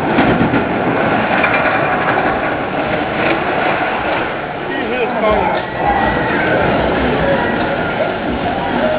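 A roller coaster rides at Casino Pier in Seaside Heights on the Jersey Shore, a loud continuous rumble and clatter of cars on track with wind noise throughout and a voice talking over it.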